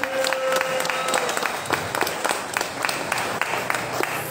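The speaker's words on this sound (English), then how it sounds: "And do a round of applause for Dave's puns." An audience in a small venue gives a round of applause at a nerd night event, scattered claps building into steady clapping for a few seconds, with a voice briefly audible at the start.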